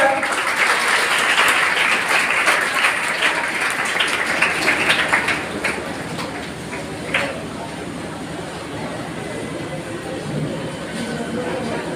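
At an award distribution ceremony held by a coaching class, a crowd claps steadily in a dense, roomy applause that swells early and then thins slightly, with some voices mixed in.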